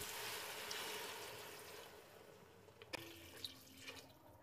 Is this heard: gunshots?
no